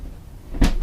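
Interior door on a cruising catamaran closing with one short, close thud and latch click after a moment of quiet room tone.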